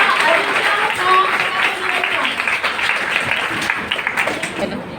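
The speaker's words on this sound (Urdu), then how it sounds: "بہت سی تالیوں میں استقبال کیجیے گا" A college audience at a Defence Day event in New Karachi claps loudly to welcome a student onto the stage, a dense, sustained round of applause that gradually thins toward the end with crowd murmur mixed in.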